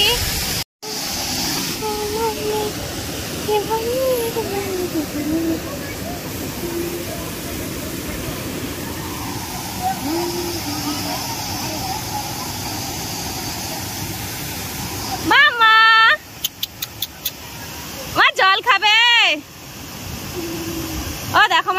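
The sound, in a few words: waterfall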